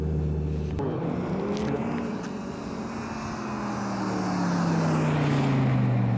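An Audi RSQ3 revs and performs a burnout. A loud engine roar rises and falls in pitch over several seconds, swelling stronger toward the end, with no talk.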